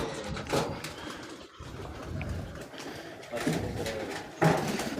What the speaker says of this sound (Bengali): এই যে দেখেন কত সুন্দর বুনো কবুতর, দেখতে অসাধারণ লাগে